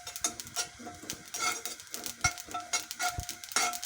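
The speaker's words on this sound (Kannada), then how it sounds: "ಮೊದಲಿಗೆ ಎಳ್ಳು ಹಾಕ್ಕೊಂಡು ಹುರಿತೀನಿ." Sesame seeds roasting in oil in a pan for mango sambar crackle and tick, with faint sizzle and repeated scraping clinks of a spoon stirring against the metal, steady and close.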